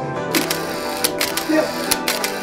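A camera taking photos at a Christmas show gives several short, sharp shutter clicks spaced irregularly over a steady indoor background hum.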